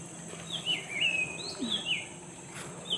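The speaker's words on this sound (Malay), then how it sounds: "Suara kat kebun kita boleh dengar suara burung." Several birds chirp and whistle in short bright phrases in an orchard, over quiet outdoor background hum, faint to moderate and somewhat distant.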